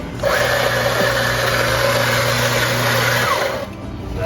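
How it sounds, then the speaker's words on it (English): A Rancilio espresso machine runs with a steady mechanical hum and whine for several seconds in a Gatlinburg, Tennessee coffee shop, loud and close, then cuts off near the end. "So we're on the Rancilio machine."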